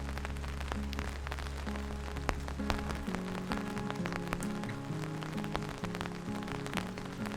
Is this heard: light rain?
yes